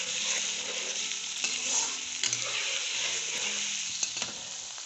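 Long potato strips lightly frying in oil for a mixed-vegetable pulao, a steady close sizzle with a few spoon stirs and scrapes in the pan, no voices.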